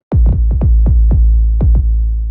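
Kick drum soloed in the Electro drum machine, with deep booming thumps in a syncopated pattern, loud with long decaying tails and nothing else playing.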